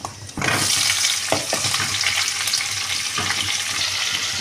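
Whole garam masala of cinnamon, cloves and cardamom drops into hot oil and sizzles loudly and steadily, with a brief soft stir.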